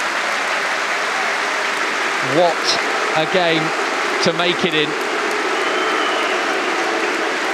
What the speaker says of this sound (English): He is warmly applauded.